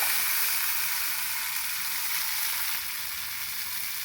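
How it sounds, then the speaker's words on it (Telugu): Finely chopped tomatoes fry in a pan for a village-style lentil and tomato chutney, giving a steady, close, moderately loud sizzle that holds evenly throughout with no talking. "నేను 2 టమాటాలు సన్నగా తరిగి ఇందులో వేసుకున్నానండి"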